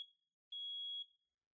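A Nest Protect smoke alarm sounds its smoke self-test: a brief high-pitched chirp, then a sustained piercing beep of about half a second, clear and alone in a quiet room.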